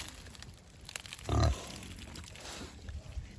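Pigs on a farm rooting around give a low, faint grunt that stands out briefly amid soft outdoor background noise.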